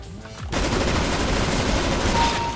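A rapid-fire gun in a video game sprays a continuous dense burst of loud shots after a brief quieter start, sustained at full volume to the end.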